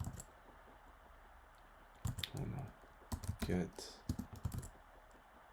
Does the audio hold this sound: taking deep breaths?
no